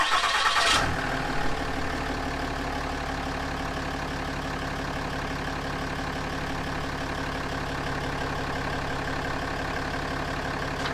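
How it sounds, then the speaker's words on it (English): A diesel engine in a 2013-2018 Cummins 6.7L truck cranks briefly and catches, then settles into a steady, rumbling idle that continues evenly with no one speaking. "I'm going to go ahead and jump in and give it a start"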